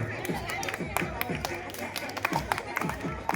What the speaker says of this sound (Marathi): लहान मुलांनी वाजवा रे टाळ्या.